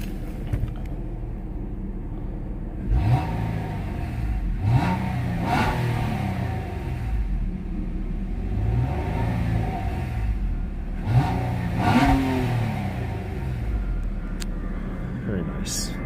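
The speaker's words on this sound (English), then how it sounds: "It's going to give it a couple of revs." A 2020 Nissan Maxima SV engine is revved several times in short bursts, each rise and fall in pitch standing out clearly over a low idle, with some talking alongside.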